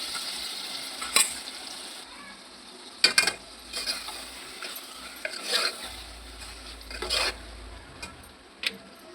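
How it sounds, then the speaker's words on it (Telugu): Chicken stirred into fried onions in a pan on a stove, with a steady background sizzle and intermittent scraping stirs and clinks of a utensil against the pan, no talking. "ఇప్పుడు చికెన్ మనం కలుపుకొని పెట్టుకున్నాం కదా, ఆ చికెన్ అనేది ఇందులో వేసుకోవాలి"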